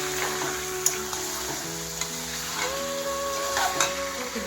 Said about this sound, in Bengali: এবার ভাজা ভাজা করে নিব একটু।